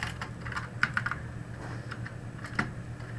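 Fingers tap a computer keyboard while typing in Microsoft Word, a quick run of close, crisp key clicks with brief pauses between bursts and no talking.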